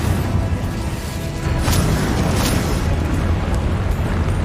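A fire spell in Hogwarts Legacy erupts as a loud, dense, roaring whoosh of flame, steady throughout with a brief crackling burst partway.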